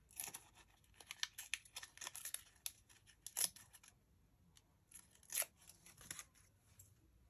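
Coffee-dyed paper is ripped by hand in a series of short, faint, close tearing strokes with brief gaps between them, in an otherwise quiet room.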